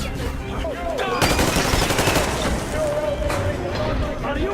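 Rapid automatic gunfire bursts in the video game Metro Exodus, loud and sustained, over shouting and agitated voices in a tense standoff.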